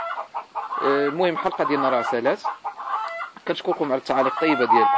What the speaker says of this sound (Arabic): نعتذر لكم على هذا الصوت هذا، راه عندي شي دجاج كيقاقي.